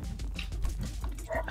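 A dog gives a few short yips and whimpering barks indoors, close and moderately loud, over a low background hum.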